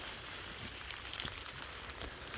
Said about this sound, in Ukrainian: Так, знову почався дощик